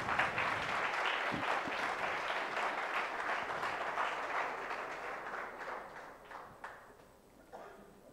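An audience applauds project competition winners at a prize distribution event. Sustained clapping holds steady at first, then slowly tapers off, leaving scattered isolated claps and a few sharp knocks near the close.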